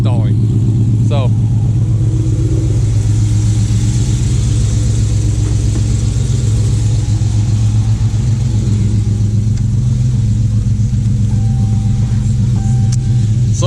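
A Dodge Charger R/T on an E85 tune idles with a steady, loud low rumble throughout, while someone talks over it.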